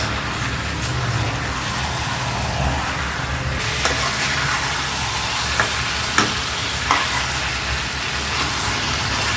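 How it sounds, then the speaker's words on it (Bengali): Mutton braises and sizzles in a pan over medium heat, giving a steady loud frying hiss with occasional scrapes and knocks as it is stirred. "এইভাবে মিডিয়াম আঁচে বারবার ঢাকা দিয়ে নেড়ে নেড়ে মাংসটাকে কষিয়ে নেব।"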